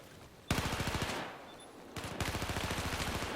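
Two bursts of rapid automatic gunfire come from the video game Battlefield 4 during a competitive match. The shots are fast, steady and even, with a short pause between the bursts.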